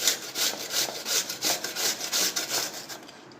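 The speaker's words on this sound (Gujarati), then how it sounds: "તો આપણે બટાકાને છીણી લઈશું।" Raw potatoes rubbed against a grater in a quick, even rhythm of rasping scrapes, close and fairly loud, about a dozen strokes with no speech.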